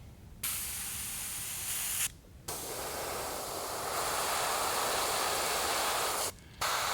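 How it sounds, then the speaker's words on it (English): An airbrush sprays black paint onto a perch-pattern fishing lure in steady, close hissing bursts, broken by three short pauses where the trigger is released. "So now I still have this black in the airbrush. I want to paint the eye sockets."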